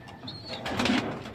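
Pet pigeons feeding, with a soft close coo and faint bird sounds over low background noise, no talking.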